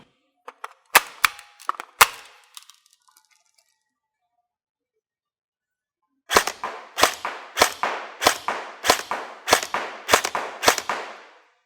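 A Specna Arms Edge airsoft rifle fires, recorded at the muzzle: a few sharp, scattered snapping shots, a pause of near silence, then a steady run of about a dozen evenly spaced, crisp shots, close and loud.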